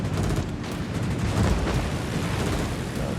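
Bombs dropped from a ship in a naval video game explode in a continuous heavy rumbling barrage, loud and booming throughout with no voices.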